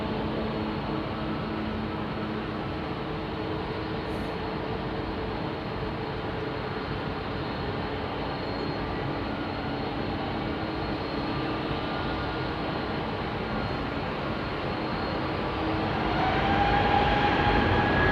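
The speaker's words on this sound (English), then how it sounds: "The KLM lot are using the LEAP engine on their 321 neos." A KLM Airbus A321neo with LEAP jet engines departing London Heathrow, heard as a steady, loud broadband engine roar from a distance, holding constant and swelling slightly near the end, with no talk.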